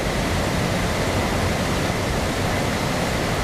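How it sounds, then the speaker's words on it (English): A waterfall roars in a steady, broad wash of rushing water heard close by from a campsite tent, continuous and loud with no voices. "There's a waterfall 30 feet from my tent."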